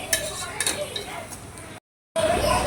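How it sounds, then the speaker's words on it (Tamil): Salt is stirred into onions frying in a pan: a spoon scrapes and clinks against the pan over a steady sizzle, broken by a brief silent gap. "உப்பு போட்டு கிண்டி விட்டுக்கலாம்."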